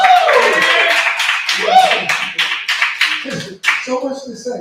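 Open mic comedy crowd clapping for a comedian being introduced, a brief burst of applause mixed with whoops and a voice talking over it.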